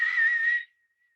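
A whistled exhalation during breathwork, one steady, fairly loud breathy tone lasting just over half a second and then cut off into silence.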